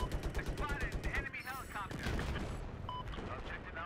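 Rapid automatic cannon fire from an attack helicopter in Battlefield 4, loud rhythmic bursts of shots up front, then a chaotic mix of explosions and rotor noise, with a voice talking briefly.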